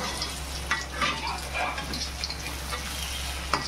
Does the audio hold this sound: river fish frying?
yes